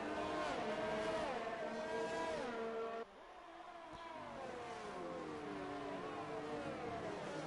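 Formula 2 race cars at the Canada round scream past with high-revving engines, their pitch sweeping down as they pass and shift, loud and continuous with no talk.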